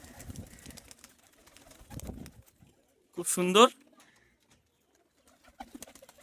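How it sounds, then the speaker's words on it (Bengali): Pigeons in a pigeon house give a short, loud burst of cooing, with quieter shuffling before and after, and a person briefly speaks nearby. "পায়রা নিচের ঘরটায় পুরো পায়রা আছে।"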